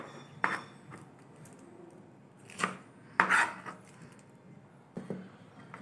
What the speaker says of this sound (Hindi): ये पालक छोटे छोटे पीसेस थे जो हमारे अलग होते हैं, वेस्ट नहीं करा हमने, हमने इसको भी रख लिया है। इसको भी काट लेंगे हम